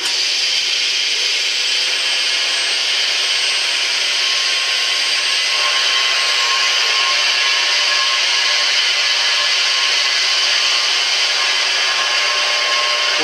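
A milling machine with a 5/8 inch cutter machines an aluminum bracket, giving a continuous loud, bright whining hiss at steady pitch for the whole stretch with no talk.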